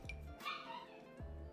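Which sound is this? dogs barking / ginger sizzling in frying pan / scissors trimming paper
dogs barking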